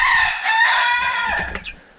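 A rooster crows loudly and close by, a single drawn-out call followed by a few soft clucks.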